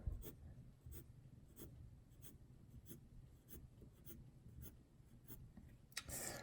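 Pencil strokes on paper for calligraphy practice, a steady series of about ten short scratchy strokes at an even rhythm, close and quiet, with no talking.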